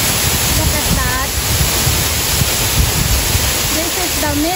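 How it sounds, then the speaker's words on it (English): Steady, broadband roar of the middle waterfall at Ng Tung Chai on Tai Mo Shan, Hong Kong, filling the scene continuously from close by, with brief voices and a few faint bird-like chirps over it. "This is the middle waterfall of Nang Tong Chai."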